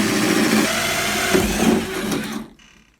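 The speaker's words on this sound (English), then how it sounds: "With the 1-inch hole saw attached to the auger, to the drill, we're ready to go straight in." A power drill fitted with a 1-inch hole saw bores through a door during deadbolt installation, giving a loud, steady grinding whine that cuts off abruptly after about two and a half seconds.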